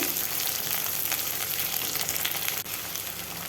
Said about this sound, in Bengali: তারপর দিয়ে দিলাম কেটে রাখা আলুটা দিয়েও কিছুক্ষণ সময় ভেজে নিতে হবে